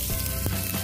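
Onions hit a hot pan and sizzle, a brief close burst of steady frying hiss with no talk.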